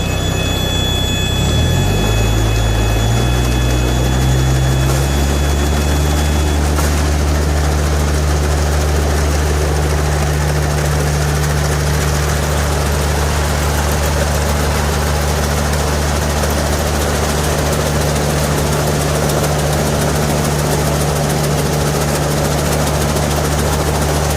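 A used Japanese GC 322 combine harvester engine runs loud and close, rising briefly as it starts, then settling into a steady, deep drone that holds unchanged.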